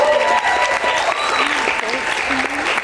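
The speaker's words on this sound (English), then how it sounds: "everyone give her a round of applause" Audience applause in a theater, dense continuous clapping for a few seconds with voices speaking over it.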